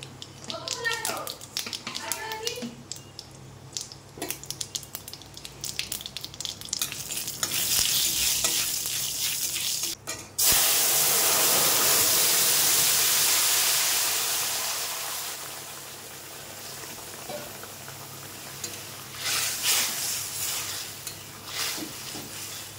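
Mustard oil and cumin seeds are dropped into hot oil to temper a Bengali curry, bursting into a loud, sustained sizzle that gradually fades, with stirring clatter and someone talking beforehand.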